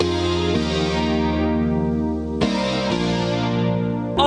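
Sustained synthesizer chords with a rich, effected tone, shifting to a new chord twice, played loud and alone with no talking.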